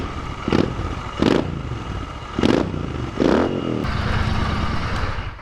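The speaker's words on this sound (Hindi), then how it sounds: "तो एग्जॉस्ट की एक बार ये आवाज़ सुना देता हूँ मैं।" Royal Enfield Continental GT 650 twin's exhaust, heard up close as four sharp throttle blips that rise and fall, then a steady idle rumble with no talking.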